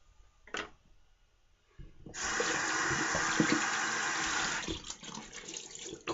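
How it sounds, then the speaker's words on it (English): Cool water runs from a tap for a rinse after a shave: a few faint clicks and splashes, then a loud, steady gushing stream that tapers off near the end. "Cool water rinse."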